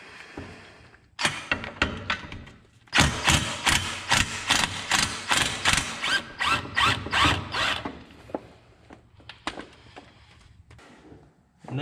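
A ratchet clicks away at a 14 mm bolt on the center section of the exhaust pipe of a 2012 Subaru Forester, its rapid rhythmic bursts close and loud, then slowing to a few sparse clicks.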